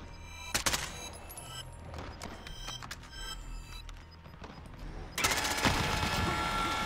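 A gun fired from the hip in Call of Duty Warzone sounds as rapid bursts of sharp gunshots, with scattered single cracks and a louder dense burst near the end.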